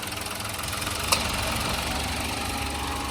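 A 2023 Toyota Wigo E automatic sits idling, its engine giving a steady, even hum at close range with one tiny click partway through, and no voices over it.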